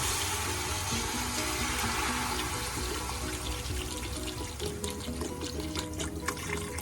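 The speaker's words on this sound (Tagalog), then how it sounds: "Add na natin ang water." Water pours steadily from a tap into a cooking pot of pork sinigang in a home kitchen, a loud continuous gushing that carries through the whole stretch with no talking.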